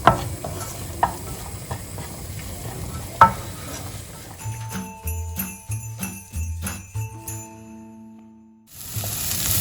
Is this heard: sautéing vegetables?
yes